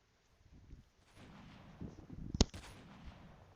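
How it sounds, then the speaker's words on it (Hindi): Bursts of gunfire in Call of Duty Mobile, a few scattered shots then a sharp loud crack, over a low rumbling background. "हमारा टीममेट गोली चला रहा था, उसी पे चला रहा था"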